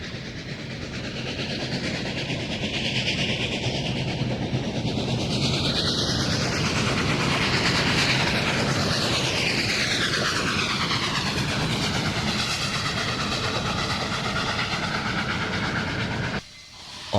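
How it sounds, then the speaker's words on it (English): Union Pacific 844, a 450-ton steam locomotive, hauls a special train past with a loud rushing roar and a steady clatter of rail cars. A falling horn-like tone sweeps through the middle of the pass. "the 450-ton steamer was in charge of a Cedar Rapids-bound special"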